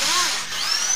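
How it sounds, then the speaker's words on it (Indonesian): A power drill fitted with a size 10 concrete bit bores into a wall, whining steadily and close at hand for about a second, with no voices. "Kemudian kita bor pakai bor beton ukuran 10 ya. Kita bor ke dalam"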